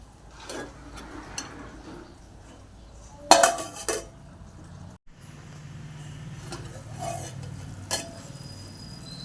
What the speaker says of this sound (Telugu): ఈ విధంగా కారం మంచిగా కలిసేలా కలుపుకోవాలండి.